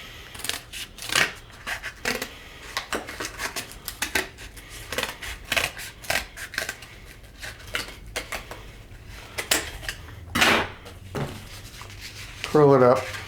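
Paper is cut with scissors in a filmmaking class, producing many short irregular snips and rustles of paper handling, with a few louder crinkles near the end.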